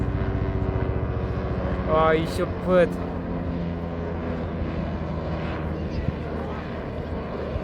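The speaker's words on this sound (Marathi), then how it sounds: "इथूनच एका हेलिकॉप्टरची एंट्री झाली" A helicopter flies over Tikona fort with a steady droning engine hum throughout, while a nearby person speaks briefly over it.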